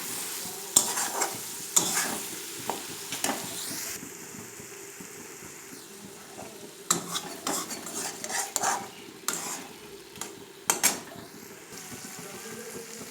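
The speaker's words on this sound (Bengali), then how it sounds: "আমার মশলাটা যখন কষিয়ে আসছে তখন আমি দিয়ে দিচ্ছি ট্যাংরা মাছ" Tangra fish being stirred into a spice masala frying in a pan, with a steady sizzle under repeated scraping clinks of a metal spoon against the pan, up close and without talk.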